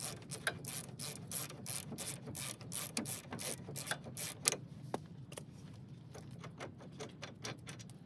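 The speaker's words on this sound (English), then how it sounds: "And then you can switch back over to your regular ratchet." Ratchet clicks in quick rhythmic bursts while loosening hub assembly bolts on a 1999-2007 4WD Chevy Silverado front end, close and fairly quiet, with a few heavier metallic knocks mixed in and the clicking thinning out toward the end.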